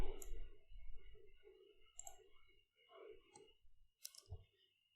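A computer mouse clicks a few times, sharp and close, while someone speaks in the background during work in CorelDraw graphics software.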